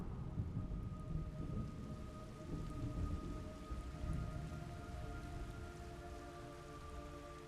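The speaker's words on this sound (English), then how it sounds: "It's raining blood." Rain and thunder in the Metal Gear Solid Delta video game: steady, dense rainfall with low rolling thunder underneath, continuous and moderately faint, with a faint sustained tone above and no speech.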